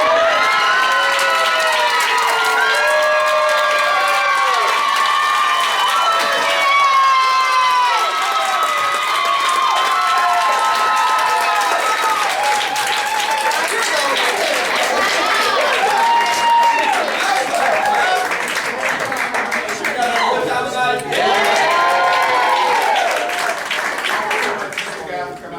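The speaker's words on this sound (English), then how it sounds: "Everybody out, give them one more applause." An audience at a stand-up comedy showcase cheers, whoops and applauds loudly for a sustained stretch, with shouting voices and clapping blending into a dense crowd roar.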